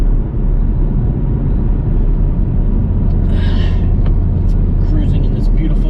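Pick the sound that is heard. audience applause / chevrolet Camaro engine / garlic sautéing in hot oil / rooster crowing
chevrolet Camaro engine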